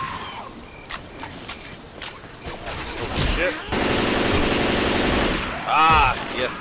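AK rifle fire in Left 4 Dead 2 starts as scattered shots and then becomes a sustained, loud automatic burst near the middle, followed by a brief rising electronic whine near the end.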